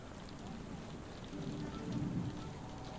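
A heavy rainstorm batters surfaces in Sherlock Holmes: The Awakened, with dense steady rain and a low thunder rumble swelling midway, all fairly quiet and with no voices.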